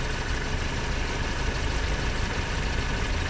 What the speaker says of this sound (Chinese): 引擎盖下面总是传出异响